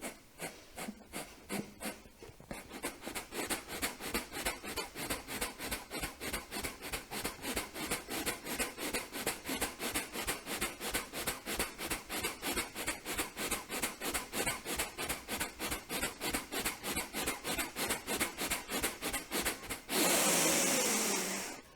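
Rapid forced exhalations of Kapalabhati yoga breathing during a guided meditation: a long, steady train of sharp, evenly spaced nasal puffs, close and fairly loud, ending with a sudden sustained rush of breath.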